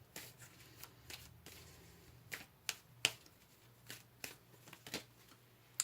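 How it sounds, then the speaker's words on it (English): Tarot cards pulled from a deck during a reading, a string of crisp flicks and snaps of card stock up close and quiet, irregularly spaced over a faint low hum, with no talking. "Let's pull a couple more cards"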